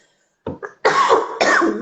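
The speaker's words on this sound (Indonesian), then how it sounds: "masih batuk" A person coughs hard several times during an Instagram live chat: two small short coughs, then two loud, harsh, drawn-out bursts close to the microphone.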